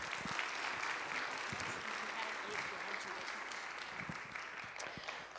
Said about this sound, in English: So let's give Garrick a round of applause.